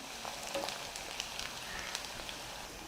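Onions sautéing in a pan for pepper butter chicken, a soft, steady sizzle with light crackles and occasional faint stirring scrapes, fairly quiet and unaccompanied by talk.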